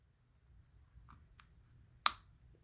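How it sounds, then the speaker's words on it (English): Smith & Wesson SD9VE pistol trigger resetting, a single sharp close click standing out against a faint quiet background, preceded by a couple of soft handling ticks. "I'm going to show you the trigger reset on this."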